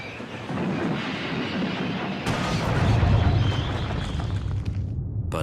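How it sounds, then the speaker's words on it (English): A steam locomotive in the Trainz game brakes hard heading toward a tunnel under repair, a loud, grinding rumble of wheels and braking that swells midway, with a sharp burst before it cuts off abruptly at the end. "His driver reduced steam and braked hard."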